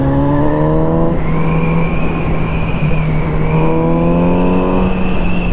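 A Kawasaki Z900 RS motorcycle revs hard through short gears, loud climbing engine tones that rise quickly, level off at the limiter, then climb again, close and without talk.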